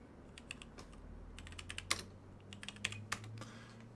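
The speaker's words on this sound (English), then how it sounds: "That sound was me typing with one hand." Quick, irregular clicking of keys on a computer keyboard, close by, with a low steady hum underneath and no talking.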